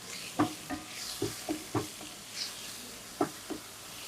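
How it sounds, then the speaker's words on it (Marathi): Jackfruit vegetable being stirred and sautéed in a pan, with a few distinct scraping knocks of the spoon against the pan over a faint background sizzle, close and fairly quiet. "व्यवस्थित एकत्र करून परतून घेऊया"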